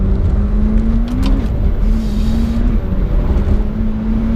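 A 2017 McLaren 720S sports car accelerating, heard from inside the cabin as a steady, fairly loud engine drone whose pitch climbs in stages, with rushing wind noise and no talking.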